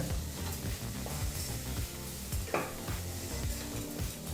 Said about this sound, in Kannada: ತರಕಾರಿ ಮತ್ತು ಉಪ್ಪೆಲ್ಲ ಚೆನ್ನಾಗಿ ಬರೆಯೋ ಹಾಗೆ ಮಿಕ್ಸ್ ಮಾಡ್ಕೋಬೇಕಾಗತ್ತೆ